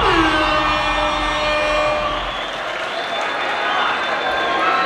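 A concert crowd in Bogotá claps and cheers in a big continuous roar, loud at the start and easing slightly before swelling again.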